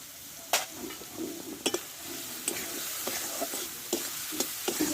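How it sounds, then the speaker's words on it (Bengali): Turmeric, salt and spices fry with tomato in a pan, a continuous sizzle with repeated sharp scrapes and taps of a spatula stirring the mixture. "মশলাটাকে ভালো করে কষে নেবো"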